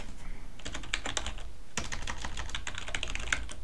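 Rapid clicking keystrokes on a computer keyboard, steady and close, with a brief pause before typing resumes; no talking.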